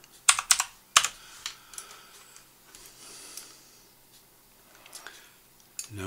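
Fingers type on a computer keyboard while a pipe is modelled in design software: quick clusters of sharp clicking keystrokes, then scattered lighter taps with pauses, close and clear, with no talking.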